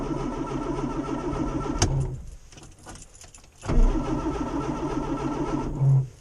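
A cold Morris Minor engine starts on a bit of choke. A clatter of keys and cranking comes first, then a short lull, and then the engine catches and settles into a steady, close idle with a brief rev near the end.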